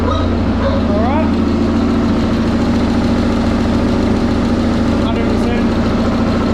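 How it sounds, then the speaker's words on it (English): A K24 engine in a jet boat idling on a cold start, running as a loud, close, steady rumbling drone with a constant pitch throughout. "Running jet boat now, guys."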